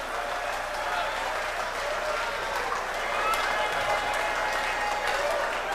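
Audience clapping, a dense continuous patter of hands that stays fairly even for several seconds, with some crowd noise mixed in.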